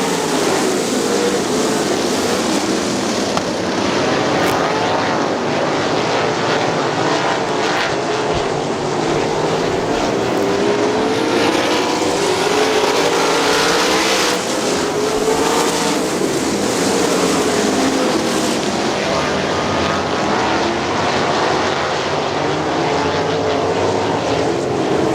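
Sprint cars racing on the dirt track at Crystal Motor Speedway, with a steady, loud engine roar that holds for the whole stretch and swells as cars pass, and no talk over it.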